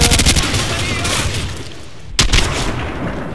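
Dense bursts of rapid gunfire rattle continuously in Call of Duty, with a sharp loud shot cutting through partway.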